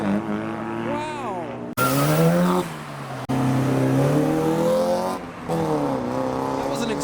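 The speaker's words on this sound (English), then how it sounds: "That was an acceleration." A modified car pulls away hard from a nighttime car meet, its engine revving loud and close, pitch climbing through several sharp gear pulls with brief breaks between them.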